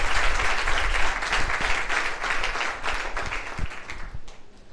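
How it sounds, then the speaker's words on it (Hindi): Enthusiastic applause from a student audience at a Teachers' Day event, a dense, steady wash of many hands clapping that carries on through the whole stretch and fades a little at the end. "तो ज़ोरदार तालियां बजाइए"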